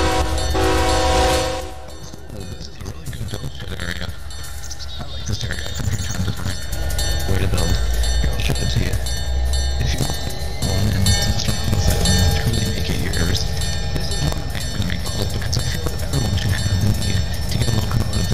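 A train departs a station in a railway video game, with a horn blast at the start and then a long steady rumble and clatter of rolling cars.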